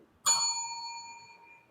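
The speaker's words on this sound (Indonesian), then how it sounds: "Ketika saya menekan bel ini" A single bright strike on a reception desk bell in a classroom rings out clearly, then its metallic tone decays slowly over more than a second in a quiet room.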